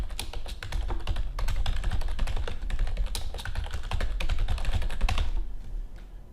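Someone types an email address on a computer keyboard, producing a steady, close run of quick clicking keystrokes that lasts several seconds before stopping.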